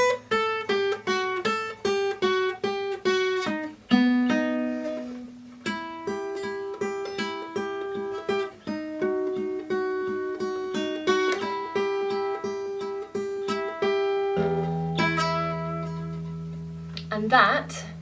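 A solo guitar plays the intro of a song as a long, busy stream of quick picked notes and ringing chords. It ends with a deeper sustained chord and stays close and bright throughout.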